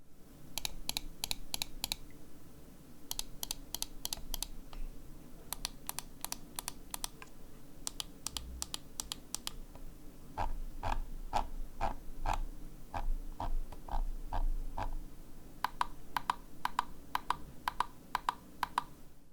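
Ninjutso Sora V3 gaming mouse buttons are clicked in quick rhythmic bursts, sharp close taps in groups of four to eight with short pauses, over a quiet room with no talking.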